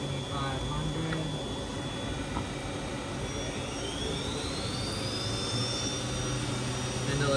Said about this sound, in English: Spindle is now up and operating at 7500.